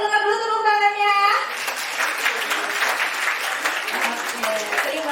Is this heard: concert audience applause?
yes